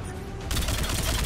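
Weapons fire in a combat scene from the shooter game Mass Effect 3, starting suddenly as a loud, dense burst of rapid shots that fills the rest of the moment.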